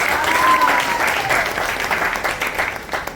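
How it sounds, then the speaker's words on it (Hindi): A crowd at a Chhattisgarhi film fan meetup in Raipur claps loudly and steadily, a dense wash of applause that tapers slightly toward the end. "एक बार जोरदार ताली होना चाहिए।"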